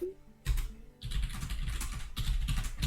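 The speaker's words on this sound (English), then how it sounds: "Oh god, I'm typing." Rapid typing on a computer keyboard, dense bursts of clicking keystrokes starting after a brief pause, close and fairly loud with no talk over it.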